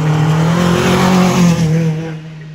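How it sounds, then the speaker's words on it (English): A Renault Clio 182 Cup car climbs the Shelsley Walsh hill, its engine roaring loud and close with a steady high pitch that shifts slightly, then fades as it moves away. "the first car we got on the hill this afternoon is Stephen Hill in the Renault Clio 182 Cup car"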